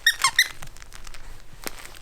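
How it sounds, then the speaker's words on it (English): Squeaky baby toy squeezed several times in quick bursts, sharp and close, followed by quieter rustling and handling noise in a room. "even squeaking toys"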